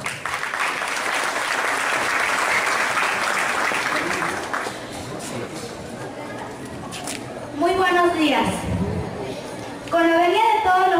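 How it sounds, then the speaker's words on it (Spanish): A school graduation audience gives dense, loud applause to a student's farewell speech for about five seconds. The clapping then fades, and a voice speaks over a quieter room. "Recibámosla pues con un fuerte y tomoroso aplauso"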